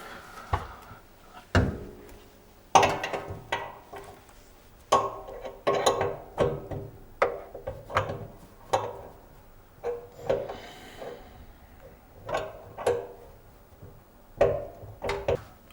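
Plastic fittings of an under-sink RO water filter faucet click, knock and rattle as the pipe is worked loose, a series of sharp irregular taps and clunks spaced a second or so apart, close by.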